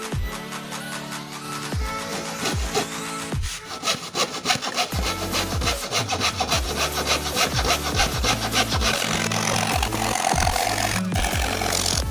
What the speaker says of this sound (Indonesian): Kemarin ada yang tanya gergaji ukir ini bisa motong untuk lubang 12 inci enggak